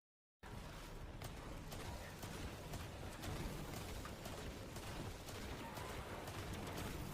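An Edge Transit grenade launcher fires continuously in Destiny 2, a dense steady barrage of launches and blasts that holds at one level from start to finish.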